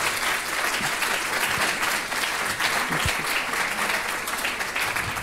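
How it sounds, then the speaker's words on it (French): Warm, sustained applause from a conference audience, steady clapping throughout without any speech. "Je pense qu'on peut encore l'applaudir chaleureusement."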